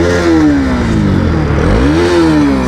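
A Bajaj Pulsar NS200 BS4 motorcycle revs up close, its engine note dipping and rising twice in loud, steady blips over a rough idle, with no talking.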